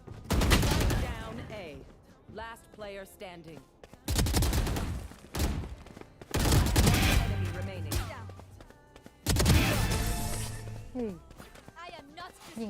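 Gunfire in a shooting video game comes in four loud bursts of rapid shots separated by quieter gaps, while excited voices talk over and between the volleys.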